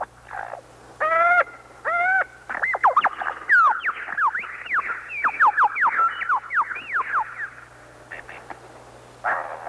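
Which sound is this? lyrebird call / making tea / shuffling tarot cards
lyrebird call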